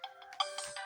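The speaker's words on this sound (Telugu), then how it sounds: "మా అమ్మ ఫోన్ వచ్చింది." An incoming call's phone ringtone chimes in a grandmother's home: a short, bright, repeating electronic melody, fairly close and clear, with no talking over it.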